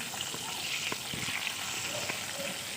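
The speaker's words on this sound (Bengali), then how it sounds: "তো আমি এখানে এক এক করে সবগুলো কই মাছ আমি তেলে ভেজে নিচ্ছি।" Koi fish (climbing perch) frying one by one in hot oil, giving a steady, fairly quiet crackling sizzle with scattered pops throughout.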